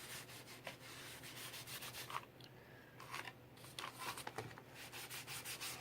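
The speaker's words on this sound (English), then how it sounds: "And you just rub it right on" Glaze rubbed and wiped by hand directly onto a wooden surface, a soft continuous scuffing and rubbing with quieter pauses, close and low in level, with no voices.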